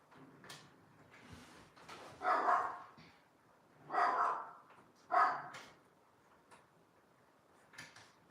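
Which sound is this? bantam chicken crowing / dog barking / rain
dog barking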